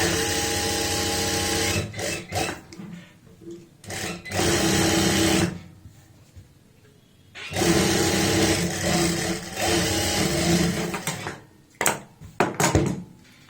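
Sewing machine stitching a lined kameez runs in several loud bursts of fast whirring with pauses between, ending in short stop-start runs.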